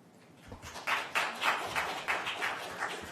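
A room of people at a Brookline Select Board meeting breaks into applause, a string of rhythmic claps swelling after a quiet start and continuing steadily at moderate distance.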